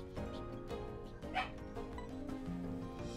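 A dog barks and whimpers with a few short yips, heard a little way off beneath steady video game music, with no clear talking over it.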